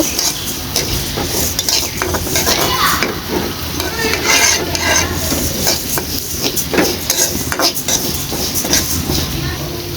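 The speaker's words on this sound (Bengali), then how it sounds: "এখন আমি ডালটা ভালো করে একটু ভেজে নিব" Washed red lentils fry in a pan in a village kitchen, a loud continuous sizzle with busy scraping and clinking of a stirring utensil against the metal throughout.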